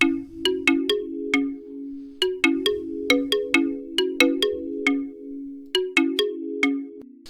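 A bright plucked synth melody of short, bell-like notes over a steady low bass line, playing alone at a moderate tempo with no effects.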